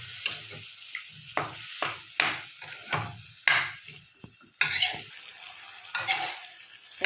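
Drumsticks (sojina) frying in a pan, with sharp bursts of sizzling as they are stirred and turned, repeated scrapes and clatters of a utensil against the pan over a steady low crackle, close by and without talk.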